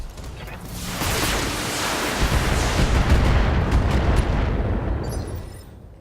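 Mech weapons fire together in the BattleTech strategy game, a loud sustained roar of blasts and rumbling explosions swelling over several seconds and fading out at the end.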